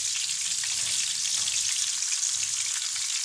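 Onions fry in a pan with garlic, giving a loud, dense and continuous hiss of hot oil, close up and steady throughout, with faint low knocks beneath.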